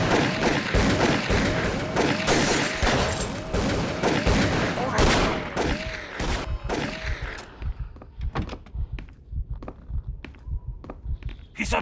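Dense gunfire from the video game Call of Cthulhu: Dark Corners of the Earth, rapid volleys of loud close shots that thin into scattered single shots and footsteps, with shouting voices mixed in.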